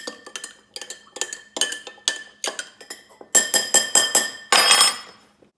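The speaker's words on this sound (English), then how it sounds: "now we're going to stir that bad boy up." A spoon clinks repeatedly against the inside of a glass while stirring a cocktail, in quick, ringing taps, growing faster and louder toward the end, with no voices.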